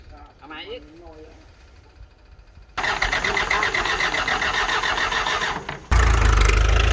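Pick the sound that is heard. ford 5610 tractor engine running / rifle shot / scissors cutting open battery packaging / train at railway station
ford 5610 tractor engine running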